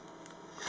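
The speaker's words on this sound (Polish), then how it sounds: "To nożyczkami otworzę." Scissors snip open a Topps Champions League trading card pack with a brief, close, crisp cutting crackle that swells slightly at the end, with no talking over it.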